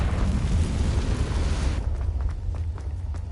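Confringo blasting spell going off in Hogwarts Legacy, a loud roaring burst that cuts off sharply and leaves a quieter rumbling tail with a few faint clicks.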